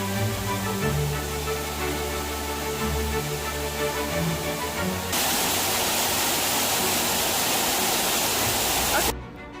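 The 66-foot roaring Cascade waterfall gives off a constant, heavy rush of falling water, first blended with sustained tonal sounds, then turning into a louder, fuller, unbroken roar that cuts off abruptly.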